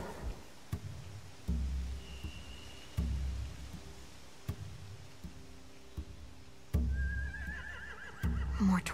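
Horses whinny in a scene from The Walking Dead: The Final Season, with a rising neigh near the end over repeated low thumps and background music-like rumble.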